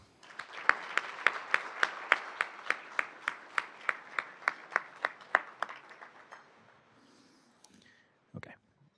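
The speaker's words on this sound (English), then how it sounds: "Please join me in giving him a round of applause" Applause for an award recipient at an alumni engineering awards ceremony: a crowd claps with sharp, evenly spaced, nearby claps standing out, then dies away after about six seconds into near silence, with one brief stray knock at the end.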